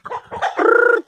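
A chicken frightened by a dog gives a few short clucks followed by a longer, drawn-out squawking call, close and fairly loud with nothing else around it.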